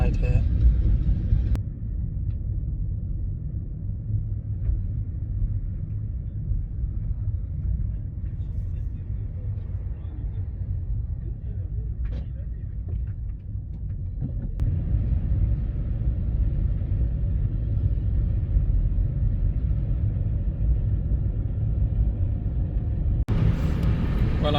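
A car drives along a motorway near the Iraqi Kurdistan border, passing queued lorries, giving a steady low road and engine rumble with a muffled cabin sound, broken by a couple of sharp knocks and a brief brighter swell of passing traffic.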